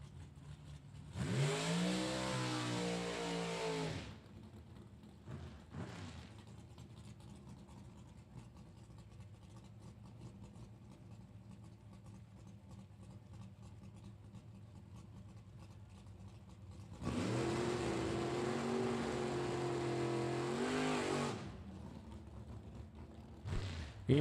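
A Vega and a dragster launch down a drag strip at a World Super Pro Challenge race, two loud bursts of engine roar separated by a long lower rumble, heard from a distance.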